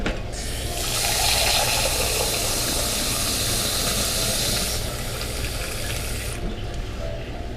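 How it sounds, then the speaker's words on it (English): Water runs into a cooking pan on the stove, two cups being measured out for instant mashed potatoes: a steady close, loud hiss of pouring that holds for several seconds and then tapers as the flow stops. "Get our water in our pan and start it into the boiling stage."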